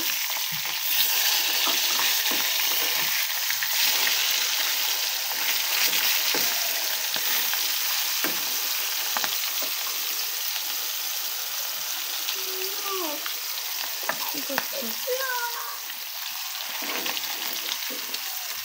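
Fish frying in a pan of oil gives a steady, close sizzle throughout, with a few brief clinks of utensils as the pieces are turned partway through.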